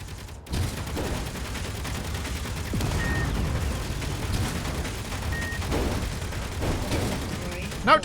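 Turret gunfire in the game Underground Alone crackles as a steady volley of shots under a busy game mix, with a few sharper bangs and brief electronic tones, moderately loud throughout.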